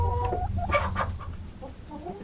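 A barred rock hen clucking close by, a run of short, throaty clucks and murmurs over a noisy outdoor background.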